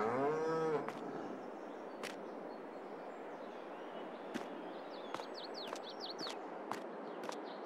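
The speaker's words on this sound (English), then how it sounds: "We have our first animal pen here for the large cow barn." Cows moo inside a large cow barn in the farming game Farming Simulator 22, a long low moo at the start followed by quieter ambience with sharp clicks and light bird chirps.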